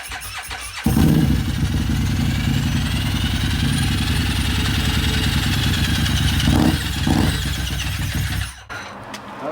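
The starter on a Harley Street 500 motorcycle engages and stays engaged, giving a loud, continuous grinding whir with a low mechanical rumble for several seconds before it cuts out, heard up close.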